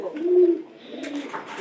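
A pigeon coos close by in low, soft throaty calls: one long rolling coo, then a short pause and fainter follow-up murmurs, with no talk.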